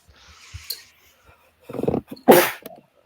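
A single close, loud sneeze after a short quiet breath-in and a faint voice, ending with a brief snort.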